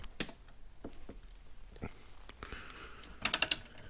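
A ratchet works on the rear shock mount of a 2014 Chevy Spark, giving scattered single clicks and then a quick, loud cluster of ratcheting clicks near the end.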